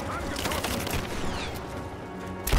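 Rapid bursts of gunfire in Rise of the Tomb Raider on Xbox One crackle in a dense, continuous barrage, with a sharper shot at the end and faint background chatter.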